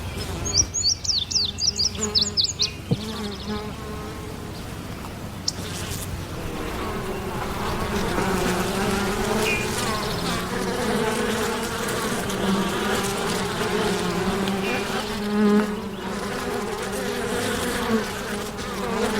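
Honeybees buzz steadily around an apiary near Hot Springs, North Carolina, a dense continuous drone of many insects close by, with a few sharper chirps and clicks at the start.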